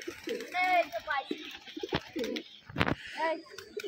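Pigeons coo in a loft in Rajshahi, with soft repeated coos and bird calls close by while someone talks over them intermittently.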